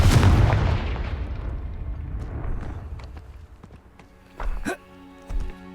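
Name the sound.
Confringo blasting spell explosion in Hogwarts Legacy video game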